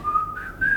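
A man whistles a short, wavering, off-key tune, one thin held pitch that slides and breaks, close and alone.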